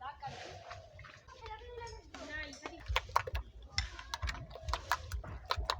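Eggs beaten with green chilli, chilli powder and pepper in a bowl, rapid clicking whisk strikes building in the second half, with a voice talking over the first part.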